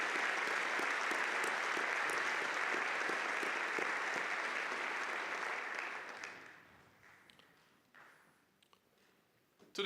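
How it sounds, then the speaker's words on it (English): Sustained applause from the audience at a university winter commencement ceremony, loud and dense for about six seconds before thinning out to scattered claps and near silence. "Will you join me in a round of applause for these?"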